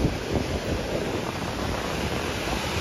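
Ocean surf washing up on a beach, a loud continuous wash of broadband water noise with some wind buffeting the microphone, no voices.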